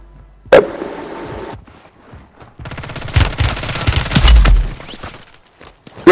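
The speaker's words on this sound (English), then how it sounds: "Being shot by somebody else now." Rapid bursts of video game gunfire, loud and close, rattling in quick automatic strings with sharp single shots mixed in and brief pauses between volleys.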